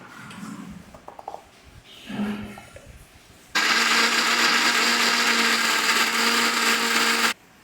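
A mixer grinder whirs loudly, grinding soaked lentils with a little water into a paste. It starts abruptly after some quiet handling noises, runs steadily at high speed for about four seconds, then cuts off.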